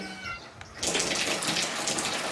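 Water from a newly installed shower bursts on and runs steadily in a steady, close, full hiss that continues to the end, after a brief quieter moment.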